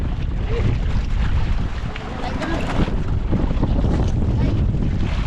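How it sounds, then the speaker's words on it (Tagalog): Strong wind at sea on a fishing boat, a heavy roaring buffet across the microphone with water and engine rumble beneath, loud and continuous, and voices faintly audible under it. "lakas na yung hangin"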